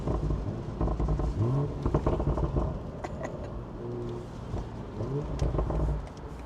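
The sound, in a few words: BMW 840i exhaust accelerating in sport mode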